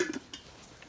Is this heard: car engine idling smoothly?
no